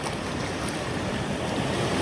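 Sea waves washing and surging around bare feet at a beach in Da Nang, Vietnam, a steady close wash of surf with a windy hiss and no voices.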